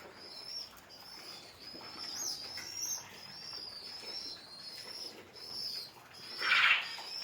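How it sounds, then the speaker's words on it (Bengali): Pigeons in a home coop, a pair sitting on eggs and feeding young, make soft intermittent calls and chirps with light flutters, fairly faint, and one brief sharper call near the end. "আমার বাসার সবথেকে পছন্দ একটা চৌকস কবুতর।"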